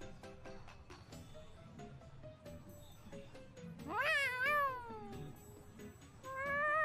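A cat meows in the Tales of Xillia 2 video game, two rising and falling calls near the middle and another starting at the end, over soft background game music and ambience.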